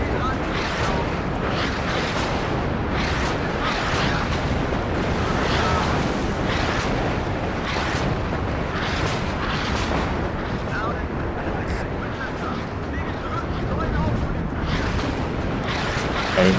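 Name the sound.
rocket artillery explosions in video game WARNO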